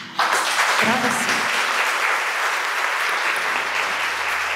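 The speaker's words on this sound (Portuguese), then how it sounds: "eu quero que você dê uma salva de palmas para você" A crowd claps steadily and loudly at a health symposium, a dense continuous wash of applause that holds evenly from start to finish.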